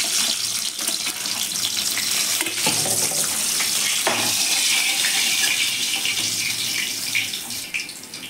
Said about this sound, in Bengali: মাছের মাথাগুলো ভালো করে ভেজে তুলে নিচ্ছি।